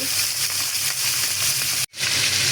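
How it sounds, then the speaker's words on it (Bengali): A rohu fish head fries in hot oil, a dense continuous sizzle and hiss up close that cuts out briefly near the end before resuming, with no talking. "কপির জন্য এখন মাছের মাথাটা ভেজে নিচ্ছি। রুই মাছের মাথা"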